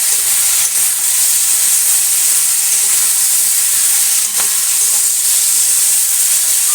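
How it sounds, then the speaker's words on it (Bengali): Winter vegetables (potatoes, eggplant, beans and radish) seasoned with salt and turmeric fry in a hot pan, giving a steady, loud, continuous sizzle and hiss with a few faint stirring scrapes. "নুন হলুদ দিয়ে ভালো করে একটু নাড়াচাড়া করে ভেজে নিলাম"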